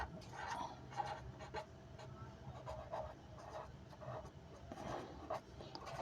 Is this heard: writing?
yes